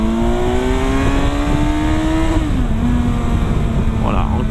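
A Kawasaki Versys 1000 motorcycle engine revs up hard after a downshift, a loud, close whine climbing steadily in pitch, briefly dipping at a gear change, then pulling on under wind noise.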